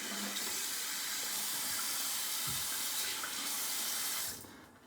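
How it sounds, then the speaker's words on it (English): Tap water runs steadily into a sink to wet a shaving brush before a straight razor shave. The flow is a close, even hiss and splash, then it cuts off abruptly near the end. "adding water"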